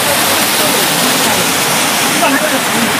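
A waterfall roars in a loud, steady, broadband rush close by, with a voice faintly underneath.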